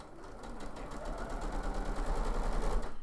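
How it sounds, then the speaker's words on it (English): A sewing machine runs along a quilt seam piecing half square triangles, a rapid, steady stitching rhythm close up that grows slightly louder, with no voices. "So as I'm sewing along, I'm making sure that that guide stays on that line."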